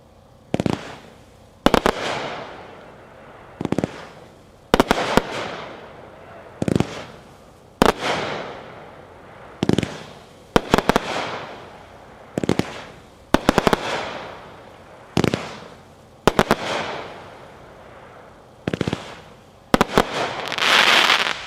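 Zombie Outbreak, a 35-shot Epic fireworks cake, fires in a steady series of loud launch thumps and sharp bursts roughly one to two seconds apart, each followed by crackling decay, with no talk.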